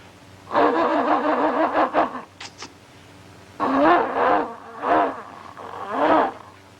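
A voice imitates a car struggling to start on a flat battery, with a long wavering groan, a pause, then several shorter strained bursts.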